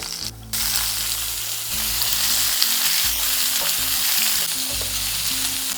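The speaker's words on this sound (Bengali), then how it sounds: "লঙ্কা আর কালো জিরে থেকে খুব সুন্দর গন্ধ বেরিয়ে গিয়েছে, এরপর দিয়ে দিচ্ছি কুচি করে রাখা পেঁয়াজ" Chopped onion hits hot oil already holding chili and black cumin, bursting into a loud, close, continuous sizzle with stirring scrapes.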